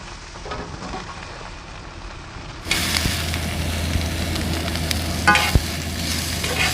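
Onions and mushrooms fry in olive oil in a pan, a steady sizzle that turns louder and denser partway through as the onion goes in, with a few clinks and stirs near the end.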